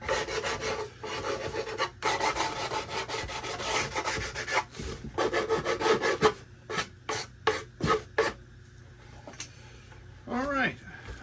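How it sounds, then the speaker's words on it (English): Wood is rasped with 80 grit sandpaper wrapped on a stick, used like a file, in quick rhythmic back-and-forth strokes up close, then slower separate strokes, with a person talking briefly near the end. "This is just 80 grit sandpaper on a heat stick, but it works like a file."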